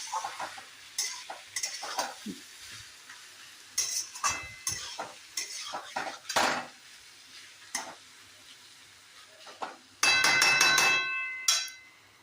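A spoon stirs a mustard and cumin spice paste in a cooking pan, making intermittent scrapes and knocks against the metal, with a denser clattering sizzle near the end and quiet gaps between strokes.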